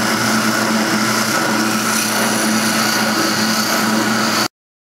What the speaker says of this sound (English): We're going to take care of all that on the spindle sander